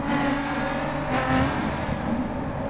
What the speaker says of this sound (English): Car Freak has a decent lead going into the final corner.